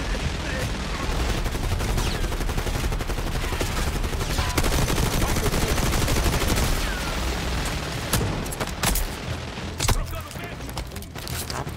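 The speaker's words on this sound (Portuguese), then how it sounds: "Cara, muito tiro" Dense, continuous gunfire in the Call of Duty Black Ops 6 video game, rapid bursts and volleys filling the whole stretch at a steady loud level, with a few sharper shots near the end and no clear talk.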